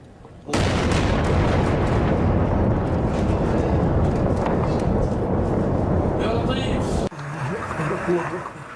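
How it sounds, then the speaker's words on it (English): A sudden loud rumbling blast from missile strikes on a suburb of Damascus erupts and roars continuously for several seconds, then cuts to a quieter, distant scene with faint sounds. "The explosions rocked a suburb of the capital, Damascus, overnight."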